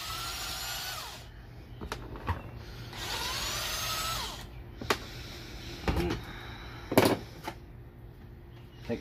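A worn-out impact gun with a loose socket clip whirs in two rising-and-falling bursts, then a few sharp metallic clanks follow, during a 2006 Honda Odyssey transmission teardown.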